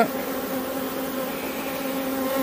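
Honeybees hum steadily over a hive frame full of emerging brood during the making of an artificial swarm, a dense continuous drone close by with no speech.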